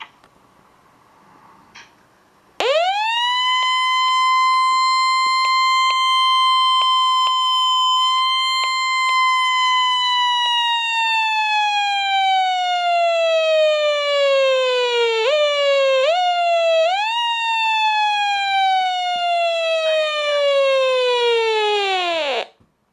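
A Midland 74-109 weather radio's alert siren test blares continuously, a loud steady harmonic electronic tone that slowly falls in pitch, warbles briefly near the end, then cuts off abruptly.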